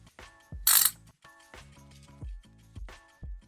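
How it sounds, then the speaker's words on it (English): A ratchet tightening the four throttle body bolts on a 2.0 TDI EA288 diesel engine makes repeated bursts of clicking pawl turns with metallic clinks, close and distinct, separated by short pauses. "then tight these bolts of the throttle body, these 4 bolts, 8 Nm"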